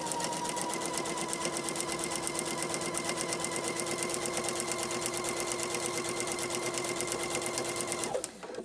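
A sewing machine stitches binding onto a quilt, a steady rapid mechanical clatter running continuously at close range, then slowing and stopping at the end.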